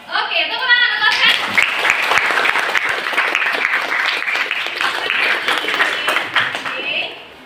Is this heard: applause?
yes